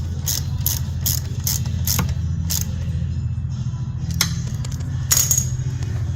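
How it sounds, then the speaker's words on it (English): Mounting bolts are tightened on a backup system, with a series of sharp metallic ratchet clicks and clinks over a low mechanical hum, close by and without speech. "Then tighten the mounting bolts."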